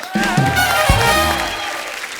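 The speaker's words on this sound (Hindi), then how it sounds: "जोरदार तालियां छोड़िए इनकी ओर" Studio audience applause on a television comedy show fills the room, a steady dense wash of clapping with music and a few voices mixed in, holding loud for about two seconds.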